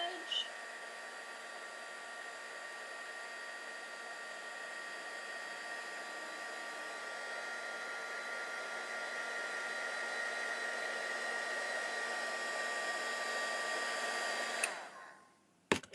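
A hair dryer blows steadily for about fifteen seconds, drying paint on preheated metal jewelry, a constant close whir that cuts off near the end.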